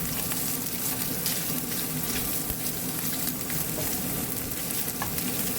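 Paneer frying in a pan, a continuous dense sizzle with occasional stirring scrapes, close and steady throughout with no talking.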